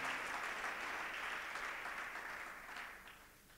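Sustained clapping from a congregation at a school church service while a woman comes forward, a dense even wash of hands that gradually fades toward the end.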